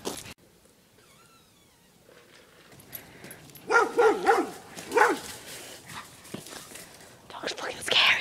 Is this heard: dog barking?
yes